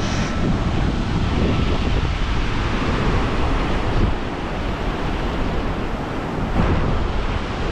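Rapids on a river beneath a bridge, seen from a riverwalk, give a steady broadband rush of water that stays even throughout, with some wind noise on the microphone.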